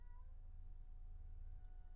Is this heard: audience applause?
no